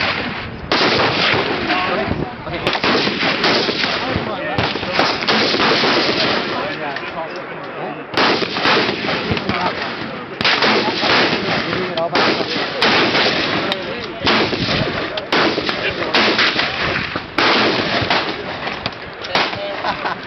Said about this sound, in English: shooting my M4 AR-15